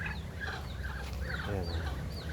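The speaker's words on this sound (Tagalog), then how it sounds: "Ay, mga native kong manok ko, ayan oh" A flock of Filipino native chickens clucks and chirps in a short, busy burst of overlapping calls, moderately close, with no one speaking.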